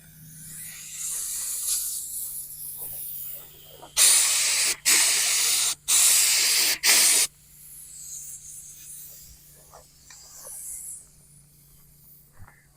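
Bursts of spray painting on a converted school bus during a second coat: four loud, steady hissing blasts in quick succession, each lasting under a second, with quieter hissing before and after.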